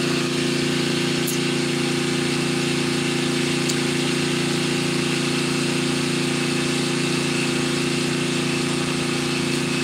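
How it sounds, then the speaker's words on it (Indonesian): A loud, steady well-drilling machine engine drones continuously at close range, a constant heavy hum with no pauses and no voices. "suara mesinnya emang cukup kenceng makanya kita menjauh dari mesin"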